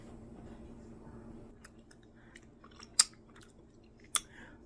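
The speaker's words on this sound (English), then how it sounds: "All right, let's taste it. A little taste test." Quiet, close chewing of grilled jerk chicken wings during a taste test, soft mouth noises with two sharp crunchy bites standing out near the end, no talking.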